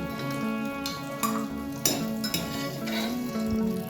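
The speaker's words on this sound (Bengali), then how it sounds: "কাজু কিসমিসটাকে হালকা করে একটু আমি ভেজে নিয়েছি এবার এটাকে আমি একটা পাত্রে তুলে রাখবো" Fried cashews and raisins scooped out of hot ghee into a bowl: a soft background sizzle under close metallic scrapes and clinks of a spoon against the pan, several short strokes at an uneven pace.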